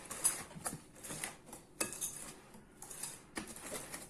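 Madeleine batter mixed in a bowl, with repeated scraping and clinking strokes of a utensil against the bowl in an irregular rhythm, close and moderately loud, with no talk.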